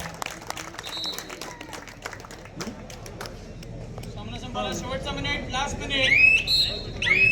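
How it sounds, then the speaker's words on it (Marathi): A crowd applauds kabaddi players at a village kabaddi tournament, scattered clapping swelling into louder cheering and hubbub while a commentator talks over it. "टाळ्या होऊन जाऊ द्या खेळाडूंना"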